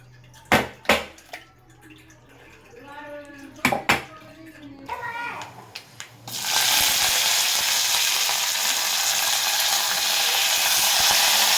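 Tomatoes hit hot oil in a pan for a Telugu village-style tomato chutney, bursting into a loud steady sizzle that holds to the end after a few clinks and a voice.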